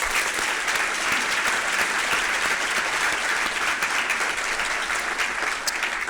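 Sustained audience applause for a panel at the close of a Power Breakfast event, dense steady clapping filling a room for about six seconds with no talk over it.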